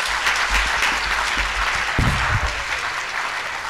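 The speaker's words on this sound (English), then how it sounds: "Shall we applaud better, please?" An audience at a university grand durbar breaks into sustained applause, a dense, loud wash of many hands clapping at once that carries steadily through to the end.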